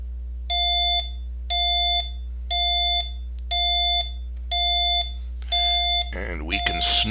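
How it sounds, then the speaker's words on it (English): A Heathkit GC-1005Neo alarm clock sounds its alarm in a steady series of evenly spaced electronic beeps, each about half a second long, loud and close over a low mains hum, before a voice starts speaking near the end. "here comes the GC-1005Neo's alarm sound"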